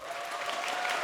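Dense, steady applause from a large audience welcoming the two finalist teams at the 2014 KartRider League Season Zero final, a continuous wash of clapping with no pauses.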